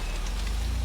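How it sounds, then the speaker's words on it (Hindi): Steady hiss of rain falling, a continuous broadband wash with a low rumble underneath, no voices. "अरे बिना मौसम के बारिश"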